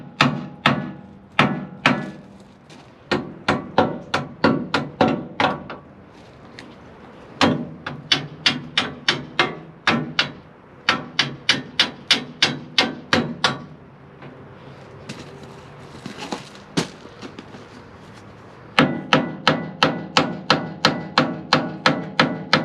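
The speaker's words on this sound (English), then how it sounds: "you're just supposed to be able to pop it with a hammer like that" Bursts of sharp, rhythmic hammer strikes on a metal adapter plate for a Gleaner combine header, loud and close, arriving in rapid series separated by brief pauses.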